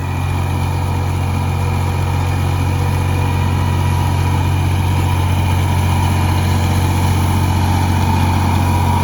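A tractor engine running steadily nearby, a loud continuous low droning rumble with no breaks.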